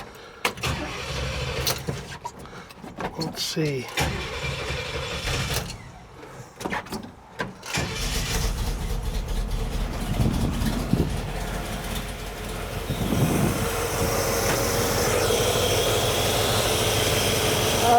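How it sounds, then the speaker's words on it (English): A small engine with a knockoff carburetor cranks and sputters in bursts in the rain, then catches and runs with a steady rough drone, idling a little rich and high; a voice speaks briefly near the start. "hopefully we can beat the rain and get this thing started up and see what happens"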